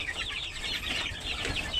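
Pet chickens cluck in a steady, busy chatter of overlapping calls, close by and moderately loud against a constant background hiss, with no talking.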